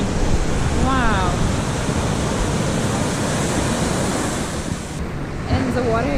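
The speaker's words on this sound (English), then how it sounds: "It is warm water, it is clean. It is like not so big waves." Gentle Pacific Ocean waves at Sayulita beach, Mexico, wash steadily in a continuous broadband surf roar with wind noise on the microphone, close and fairly loud, with a brief voice near the start and end.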